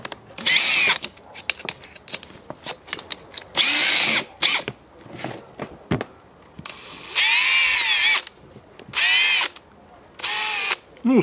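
Electric sanding machine fitted with DE-TERO sanding sleeves, running in several loud whining bursts of about a second each, with quieter clicks and handling knocks between them and no talk.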